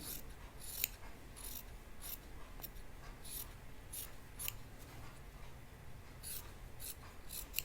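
Scissors snip along the edge of knit T-shirt fabric in a series of quick, crisp cuts, close and fairly quiet, with soft rustling between them.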